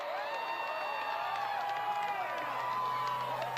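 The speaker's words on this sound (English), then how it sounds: "Listen to the crowds." A crowd gathered in Texas for the 2024 solar eclipse cheers and whoops, a dense wash of excited voices and shouts, loud and steady throughout with no lull.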